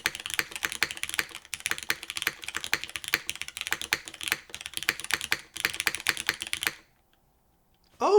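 A Blaine V2 top-mount mechanical keyboard is typed on in fast, dense bursts of crisp clacks and taps, close and clear, before falling silent near the end. A short thump follows.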